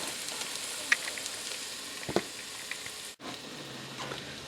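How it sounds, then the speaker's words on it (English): A steady, moderate sizzle of carrot chunks sauteing in a hot pan, with occasional soft pops and clicks and no talking. "we're going to let them sizzle and saute for a while we get the rest of the ingredients ready"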